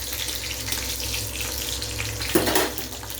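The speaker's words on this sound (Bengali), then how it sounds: "ফোড়ন দেবো, তেজপাতা শুকনো লঙ্কায় ফোড়ন দিচ্ছি।" Bay leaf and dried red chili sizzle in hot oil in a pan, a steady bright hiss with one brief louder crackling flare near the end.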